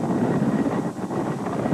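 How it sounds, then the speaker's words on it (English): Military helicopters lift off in a continuous broadband rotor and engine roar with a wind-like rumble, loud and steady through the short stretch, with no voices. "More helicopters took off, already secure in the knowledge that the first group had landed safely at Kabul airport."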